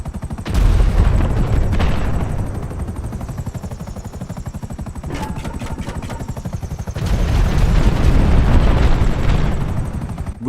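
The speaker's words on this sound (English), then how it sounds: "It also can drop bombs like this." A GTA 5 Online helicopter's rotor chops steadily while it drops bombs, several heavy booming blasts going off, two early and a longer rumbling burst near the end.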